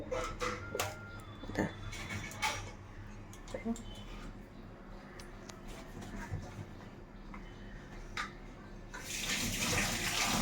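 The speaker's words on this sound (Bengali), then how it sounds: "তো চলো এই মাছ টাছগুলো ধুয়ে নিই" Tap water runs while fish are rinsed in a kitchen sink, a steady splashing flow with clatter, a voice talking over it, and a louder gush at the end.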